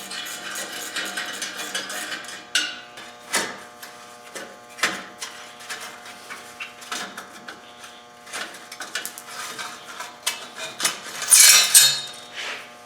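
Hose clamps being loosened on the exhaust heat shields of an old Harley-Davidson motorcycle under restoration: scattered small metallic clicks, taps and tool rattles, close and fairly quiet, with a brighter jingling scrape near the end.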